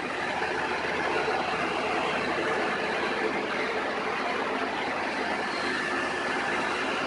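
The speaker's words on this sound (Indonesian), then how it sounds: "Dan ini suara bising dari mobil pemadam kebakaran." Fire engines idle at a night street fire scene outside a burned cafe in Surabaya, a dense continuous engine rumble and hum, fairly distant and steady with no voices.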